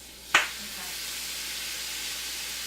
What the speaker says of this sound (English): we'll start introducing sauce into my frying pan